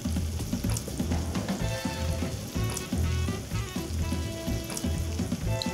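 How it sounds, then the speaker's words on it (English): Breaded turkey cutlets fry in a hot pan of regular vegetable oil, giving a steady, close crackling sizzle that runs unbroken from start to finish with no talking. "my pan is nice and hot, using some regular vegetable oil in the pan."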